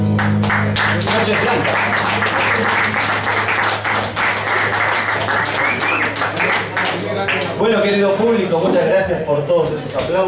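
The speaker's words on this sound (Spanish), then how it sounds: "aplausos." Sustained audience applause at an acoustic concert, dense clapping that swells and fades with voices mixed in and a few cheers.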